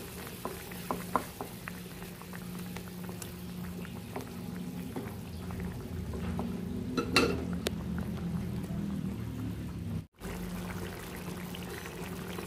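Sardine and udon noodle soup bubbling at a steady boil in a pot, a continuous low simmering rush with a brief splash partway through and a short break near the end.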